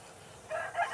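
A rooster crows in a village yard during home cooking of sesame and roasted gram laddu, a loud, near call arriving in two rising bursts over a quiet background.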